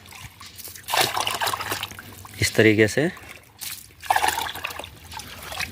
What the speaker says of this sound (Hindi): अब इसको मैं पूरा पानी से भर लूँगा।